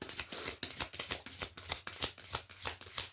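A deck of oracle cards shuffled over and over in a quick, steady rhythm of crisp riffles, close and fairly loud, with no talking.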